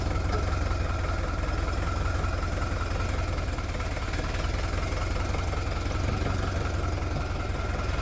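A Scout T-504 mini tractor engine runs steadily and loudly nearby while maneuvering, a constant low chugging knock throughout with no pauses.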